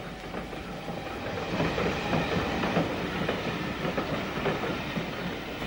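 A pick-up goods train headed by a BR Standard Mogul steam locomotive, 78004, rolls past on the Hereford line, wagons clattering with rhythmic clickety-clack wheel beats at moderate distance, steady and unbroken.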